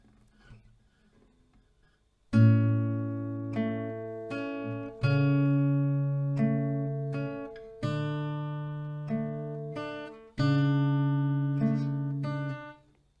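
An acoustic guitar picked slowly, single notes and chords ringing out one at a time with pauses between phrases, close and clean after a brief quiet start.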